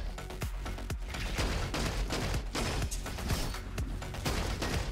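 Automatic weapon fire in the shooter video game Roboquest, a steady dense stream of rapid synthetic shots and booms running through the whole stretch at moderate loudness.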